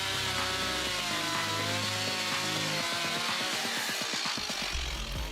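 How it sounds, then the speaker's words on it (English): A Stihl MS 170 chainsaw cuts through wood, its engine whining loud and continuous with a bogging, pulsing rhythm as the chain bites deeper near the end of the cut. "the MS 170 handles woodwork with precision the most effectively."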